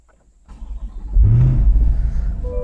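A 2021 C8 Corvette Stingray engine cranks and fires up, then rises into a loud, deep rumbling rev as the car pulls away, close and strong with no talking.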